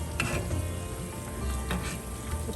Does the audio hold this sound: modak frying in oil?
yes